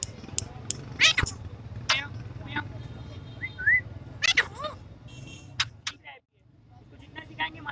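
At a Sunday bird market in Lalukhet, a pet parrot imitates a cat's meow with several short, rising mew-like calls and whistles scattered through the stretch, heard close over a steady crowd murmur with people talking nearby.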